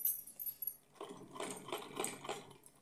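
Sewing machine stitching a small fancy doll dress for a size 4-5 Laddu Gopal figure, starting after a quiet second and running in short rhythmic bursts of needle clatter, near and fairly soft, with no talking.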